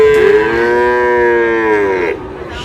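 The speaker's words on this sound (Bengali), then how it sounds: "মানে একটা সুন্দর কোয়ালিটির ষাঁড়।" A six-to-seven-month-old Sahiwal bull calf at a cattle market in Dinajpur gives one loud, close, drawn-out moo lasting about two seconds, with no talk over it.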